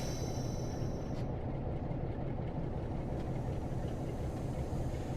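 A Class 47 diesel locomotive works under power in a train simulator game, heard as a steady, fairly quiet low rumble that runs without a break.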